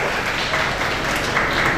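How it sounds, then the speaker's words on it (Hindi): Brief burst of applause welcoming a professor at a foundation's annual function, a dense, even rush of clapping from a crowd, steady and moderately loud for about two seconds. "जोरदार तालियों में वेलकम कीजिए"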